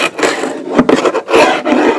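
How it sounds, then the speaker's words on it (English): A hand scraper rasps the old finish off an oak floor in a century-old house, with a series of close, rough scraping strokes separated by brief pauses. "So, anyway, you can see how I use a scraper"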